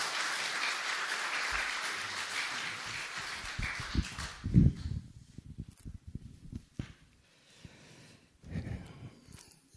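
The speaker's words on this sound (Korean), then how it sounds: "박수 한번 하겠습니다" A church congregation applauds at a Korean revival meeting, a dense wash of clapping through the first few seconds that drops away into quieter thumps and scattered handling sounds.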